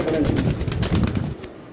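Pigeons coo softly in a short burst, close by, with a faint murmur of voices under them.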